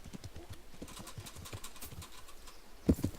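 Horse hooves clip-clop in a rapid, fairly quiet rhythm in the video game Kingdom Come Deliverance, ending with a couple of sharper thuds near the end.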